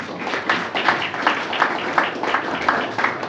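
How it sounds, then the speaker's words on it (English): A crowd applauds steadily, many hands clapping in a dense, even wash with rhythmic swells, fairly close and without speech. "a round of applause for our panel"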